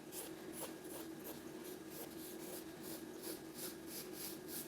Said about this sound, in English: Then I'm going to do a slightly smaller circle in the middle.